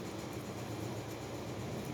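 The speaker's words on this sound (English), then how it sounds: "my washing machine's unbalanced" An unbalanced washing machine gives a steady, dense rumble with a low droning throb, close and continuous throughout, with no talking.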